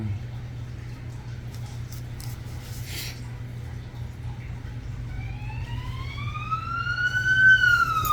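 An ambulance siren rises and wails in from a distance over a low steady hum, growing louder toward the end.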